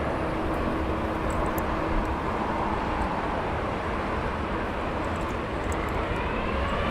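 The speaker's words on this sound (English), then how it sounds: "Now we've got Air Canada Dreamliner rolling." Air Canada Boeing Dreamliner jet rolling on the runway at Heathrow Airport, a broad, steady distant roar of jet engines held evenly throughout with no talk.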